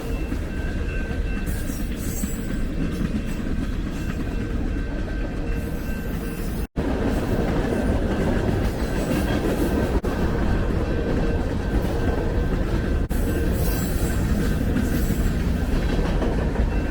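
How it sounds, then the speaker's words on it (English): Mile-long freight train passes on a railroad in the California desert along Route 66, a loud, continuous rumble and rattle of wagons with rhythmic clickety-clack close by, broken by one brief dropout. "But this train is probably like a mile long."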